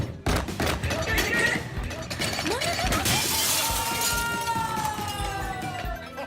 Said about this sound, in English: The glass window provided a marvelous view, but they probably should have used thicker glass.